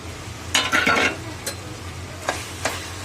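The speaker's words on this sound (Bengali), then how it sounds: "পেঁয়াজ কাটাগুলো দিয়ে এরকম নেড়ে চেড়ে নিতে হবে" Chopped onions are stirred in a pan while making momos, giving a few scraping, sizzling stirs in a burst around the middle, then two brief spatula clinks near the end, close and fairly loud.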